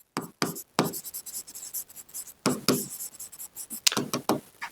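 A pen or chalk writes out a maths solution in quick bursts of scratchy strokes, near and clear, separated by short pauses.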